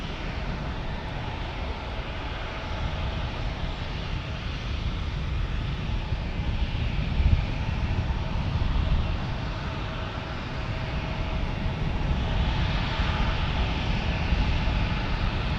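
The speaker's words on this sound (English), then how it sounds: "We get an Alaska 737 MAX 9 that is going to Portland" An Alaska Airlines Boeing 737 MAX 9 bound for Portland passes near San Diego airport. A steady broadband jet engine roar builds slightly and holds for the whole stretch, with wind buffeting the microphone.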